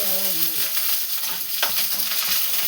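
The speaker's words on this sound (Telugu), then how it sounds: "ఎండుమిర్చి వేగుతున్నాయి కదా, ఎండుమిర్చి వేగుతున్నాయి." Dried red chillies crackle and sizzle in hot oil, a steady close frying hiss with a brief stirring scrape partway through; a voice speaks briefly at the start.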